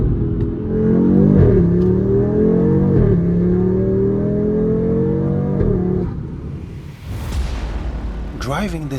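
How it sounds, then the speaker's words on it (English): Tuned 540 hp Audi RS3 Sportback 8Y five-cylinder engine revving hard and close, with rising and falling pitch sweeps through several gear pulls, then easing off before a sharp final blip. "The 5-cylinder sound, especially tuned the way this car is, gives you that huge smile from ear to ear."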